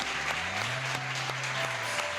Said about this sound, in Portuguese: A igreja pode aplaudir o Senhor por isso?